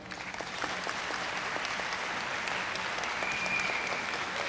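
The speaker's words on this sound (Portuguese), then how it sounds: "Uma salva de palmas" Steady audience applause at a motivational talk on commitment and teamwork, a dense even wash of clapping held for several seconds, moderately loud throughout.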